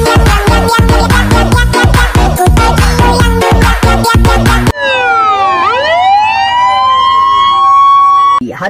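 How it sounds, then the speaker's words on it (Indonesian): A fire truck siren sweeps up and down in loud, repeated wails. It follows a burst of rhythmic music with beats. "Ada truk pemadam kebakaran teman-teman."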